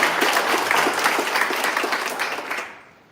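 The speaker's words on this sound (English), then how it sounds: "Let's give a round of applause." An audience applauds at a Typhoon Preparedness Month proclamation signing in Guam. Dense, lively clapping carries on steadily and then quickly fades to silence at the end.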